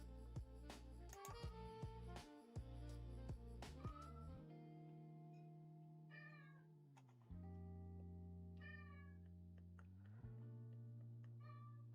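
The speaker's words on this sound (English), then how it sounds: "Hi, cat." A house cat meows several times in short rising and falling calls, fairly faint and spaced apart, over a steady droning electronic hum with some clicks and tones at the start.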